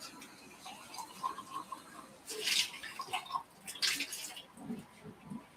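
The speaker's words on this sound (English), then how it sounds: "let me rinse this out a little bit" Running water splashing while a container is rinsed out in a home kitchen, uneven drips and gushes that come and go in short bursts, fairly close and moderately loud.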